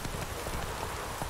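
Rain falls steadily in The Witcher 3, a soft broadband patter with scattered faint drop ticks and a few light hoof-like knocks mixed in.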